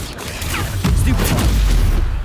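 Spells cast in quick succession in the game Hogwarts Legacy, a dense run of booming magical blasts and whooshes, loud and close, one impact landing hard midway with no gap of quiet.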